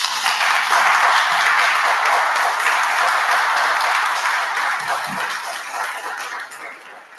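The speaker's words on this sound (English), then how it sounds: "Please join me in applause." Sustained audience applause at a public policy event, a dense wash of clapping that holds steady and then slowly tapers off toward the end.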